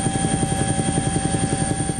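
Helicopter rotor chop pulses rapidly and steadily under a constant engine whine, loud and close as if heard from inside the cabin during flight, with no voices.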